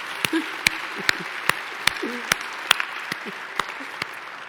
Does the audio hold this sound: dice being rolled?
no